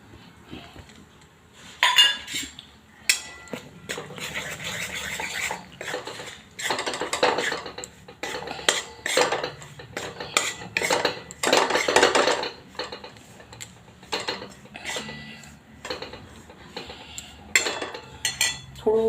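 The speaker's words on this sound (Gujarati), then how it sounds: "આપણું ઘી ગરમ થઈ ગયું છે ને આપણે લોટ નાખીશું" Wheat flour going into hot ghee in a pan and stirred with a spoon for sheera, heard as a run of close, sharp metal scrapes and clinks against the pan in irregular bursts, with no talking.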